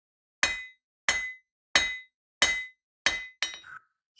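Six crisp hammer blows ring out on metal from a metalsmith at work, evenly timed with bright metallic clinks that fade quickly, the last strike slightly duller, heard close with nothing else around.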